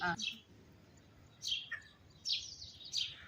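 Birds chirp on a cold morning at a village mud house in Punjab: a few quick, bright tweets come in scattered bursts over soft background hiss, fairly faint and at a moderate distance.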